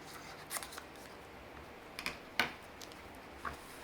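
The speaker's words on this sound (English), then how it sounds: "I don't need this little tag right here, so I'm going to cut this tag out" Scissors snip a small tag off a fabric placemat in several short, quiet cuts, a pair close together near the start and more spaced out after, faint and close with no speech.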